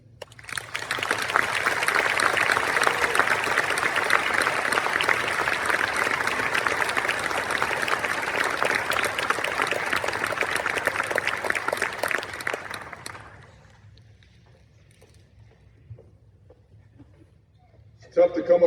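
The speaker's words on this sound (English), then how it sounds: "Let's give another round of applause for Mr. and Mrs. Sparks, for Reed and Abby Gray" Sustained, dense audience applause fills a hall after a donor tribute speech at the 2026 Transplant Games, holding steady for about thirteen seconds before cutting off into near silence.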